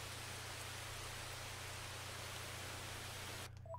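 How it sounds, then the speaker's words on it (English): Steady, even rain from an anime scene, a constant soft hiss with a low hum beneath that cuts off abruptly near the end. "This is that rain."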